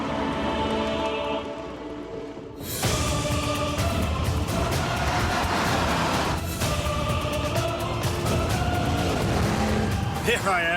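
A Mercedes convertible driven with the top down, a sudden swell of open-air wind and road roar that stays loud and steady after a quieter start.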